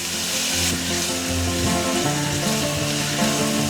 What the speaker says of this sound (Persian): داخل مایتابه میریزم و یه مقدار روغن زیتون شروع میکنم به سرخ کردن پیازا